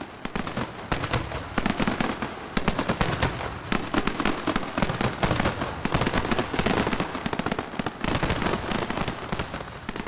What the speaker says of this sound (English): The fireworks exploded much closer to the ground, almost too close.